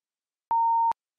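A classroom timer goes off with one clean, steady electronic beep lasting under half a second, loud and alone against silence.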